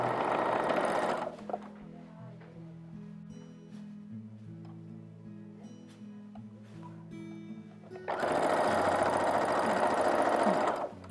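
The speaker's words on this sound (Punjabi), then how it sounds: "ਫਿਰ ਅਸੀਂ ਇਹਦੀ ਰਫ ਸਿਲਾਈ ਕਰ ਲਵਾਂਗੇ" An electric sewing machine runs a rough tacking stitch along a sleeve for hemming in two loud, steady whirring bursts at the start and end. A quieter stretch with a faint hum and light clicks sits between them.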